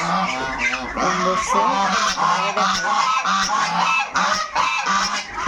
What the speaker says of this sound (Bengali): রাজহাঁসের গলায় আসছে এত সাউন্ড